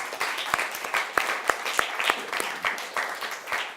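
Audience applause at a high school luncheon ceremony, a steady dense patter of many hands clapping with a few sharper claps standing out, moderately loud and continuous throughout.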